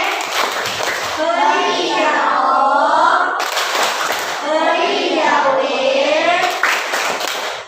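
Schoolchildren in a classroom chant the 'tepuk wow' clapping routine in unison, their high voices rising and falling in repeated phrases with bursts of hand claps between the lines.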